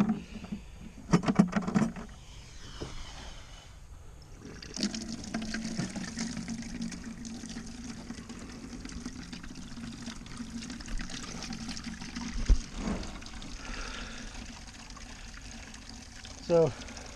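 Water runs steadily into a 5-gallon bucket in a garden, filled from an IBC tote, a continuous moderate pouring and trickling sound with a few brief knocks and light handling noises.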